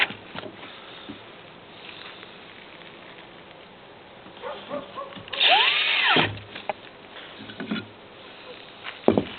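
A power drill drives a screw into a solar panel mount. It gives one short, close whirring burst of about a second that rises and then falls in pitch, against quiet room noise.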